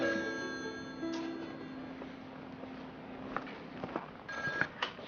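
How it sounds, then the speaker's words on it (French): A telephone rings in a scene from a Haitian film, with a tone at the start and short repeated rings over a quiet, hissy room background. "Ah, mon téléphone"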